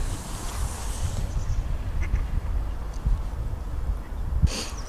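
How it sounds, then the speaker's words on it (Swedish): Mallard ducks outdoors on a sunny, chilly morning, giving a few short quacks over steady background noise, with one brief louder call near the end. "Och vi tittar på ankorna. Eller gräsänderna, tror jag det var."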